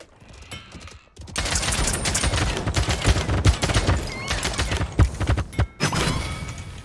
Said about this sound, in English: How does one get headshots with this weapon?